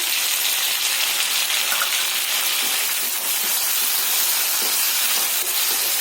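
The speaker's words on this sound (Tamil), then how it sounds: "இப்போ நம்ம 2 தக்காளி பழம் கட் பண்ணி வச்சிருக்கேன், சேர்த்துக்கிறேன்." Chopped tomatoes go into a hot pan and set off a loud, continuous hissing sizzle that holds steady the whole time with no voices.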